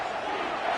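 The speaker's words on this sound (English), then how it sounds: "Third down, and this crowd is bringing down the house." A stadium crowd roars in the College Football 25 video game, a brief, dense, sustained wash of cheering voices at steady loudness.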